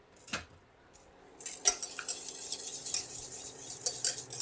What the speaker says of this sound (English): I'm gonna get a whisk